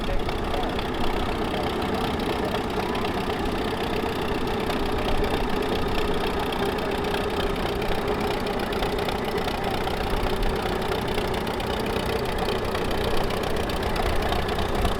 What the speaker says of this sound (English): Here we have Justin Schifferl on a 1934 McCormick Daring W30.